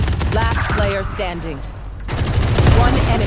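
Rapid bursts of Valorant gunfire crackle through a dense game mix, with a brief lull midway before more shooting returns, while voices talk over the action.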